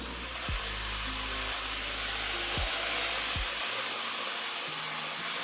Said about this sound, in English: Throttle to 1700 RPM.